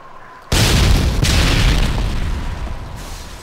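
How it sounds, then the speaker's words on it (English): A flashbang stun grenade goes off in Modern Warfare 2: a sudden loud booming blast that hits abruptly after a near-silent moment, then rings on as a dense roaring wash that slowly fades. "That flashbang is nice."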